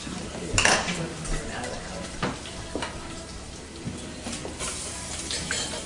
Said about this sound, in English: Now we will add our garlic. Saute for 1 more minute.